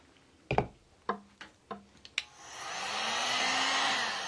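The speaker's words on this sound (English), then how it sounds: "Can't dry it without the heat gun." A heat gun drying decoupage paper on a thrift-store furniture flip: a few sharp taps and clicks first, then the gun switches on into a steady loud blowing whoosh that holds to the end.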